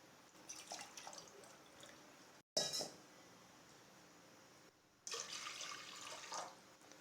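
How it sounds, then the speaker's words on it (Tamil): Water is poured into a pan in quiet, splashy bursts close by, with short pauses between pours. "தண்ணி ஊற்றுவோம் தண்ணி கொஞ்சமாக தான் ஊற்றணும்"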